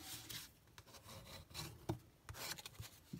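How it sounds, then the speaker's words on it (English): A bone folder burnishes a fold in stiff cardstock with firm, repeated rubbing strokes, close and fairly quiet, in uneven scraping bursts. "I'm just going to use my bone folder to burnish it."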